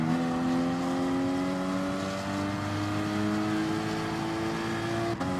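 A race car engine in GT Sport, run in a lower engine mode and short shifted, drones steadily and loud with rising harmonic pitch sweeps through the gears, accompanied by a brief click near the end.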